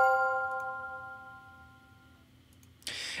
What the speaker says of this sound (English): So I have a recording here of this Glockenspiel.